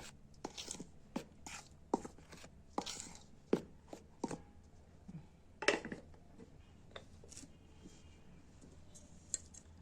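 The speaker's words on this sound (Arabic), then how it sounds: "اهو هقلب بقى كده المكونات دي مع بعض" A spoon stirs bread dough ingredients with instant yeast in a bowl, giving a series of sharp, irregular clacks and scrapes against the bowl over a quiet background.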